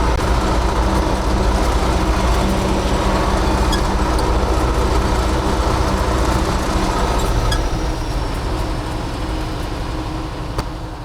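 The heavy engine of a PZM-2 field earthmoving machine, a Kharkiv-built tractor, rumbles loudly and steadily at close range, a dense continuous drone with no voices.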